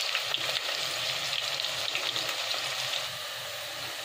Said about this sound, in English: We're going to cook our onions until they brown.